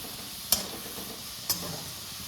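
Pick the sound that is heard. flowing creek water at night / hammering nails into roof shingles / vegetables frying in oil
vegetables frying in oil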